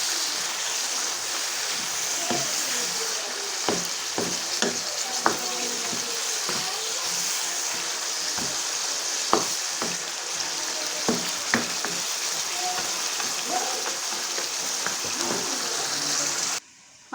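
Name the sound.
chicken frying and sizzling in a karahi pan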